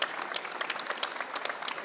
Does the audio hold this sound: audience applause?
yes